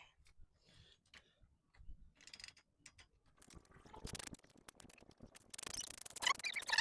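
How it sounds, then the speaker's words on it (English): A ratchet wrench with a deep socket loosens a transmission nut during a 350 engine swap on a Chevy S-10. Quiet, irregular clicking builds into louder, faster ratcheting toward the end. "We're gonna need a deep socket. So we're just gonna go ahead and wrench it."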